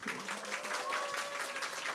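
A room full of people claps steadily, applause at a moderate level without a break.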